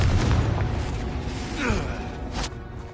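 A Confringo fire spell bursts in Hogwarts Legacy, a deep booming explosion with a rushing whoosh, a second thump following shortly after, with a voice calling out over it.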